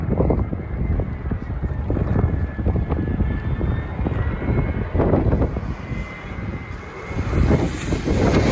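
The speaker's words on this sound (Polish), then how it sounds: "Właśnie ląduje samolot z Billund w Danii." An airliner landing at an airport in the Faroe Islands after a flight from Billund, Denmark, its engine roar loud and continuous with heavy wind buffeting the microphone throughout.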